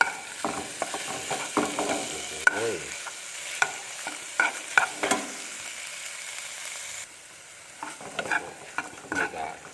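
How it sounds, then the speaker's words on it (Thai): Quail pieces are stir-fried with red curry paste in a pan: a steady run of close, clattering scrapes and light sizzling for several seconds, then a quieter, softer sizzle near the end, no speech. "ผัดให้เข้ากัน กับพริกแกงเนี่ยครับ"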